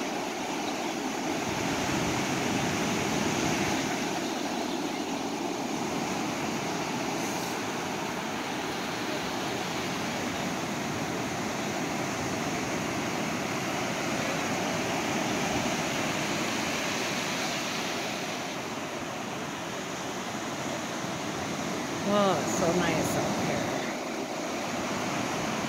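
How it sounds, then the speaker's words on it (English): Big ocean waves roll in as a continuous, loud surf roar with broad wash and some wind buffeting, steady throughout with a slight swell near the end and no voices. "Some big waves coming in."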